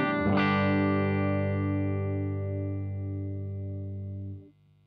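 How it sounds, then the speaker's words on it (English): Gretsch G5120 hollowbody electric guitar on a clean tone with the volume turned down, one strummed chord ringing out and slowly decaying for about four seconds before being cut off. "if you want a more cleaner sound, the most simple thing you can do is just turn down your main volume"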